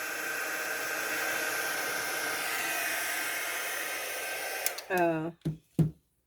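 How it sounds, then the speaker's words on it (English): A heat gun blows over resin in a silicone mold: a steady, close, broadband hiss that runs unbroken for about five seconds, then cuts out, followed by a few short bursts of speech. "heat gun. It will heat it up enough for you to be able to play with it."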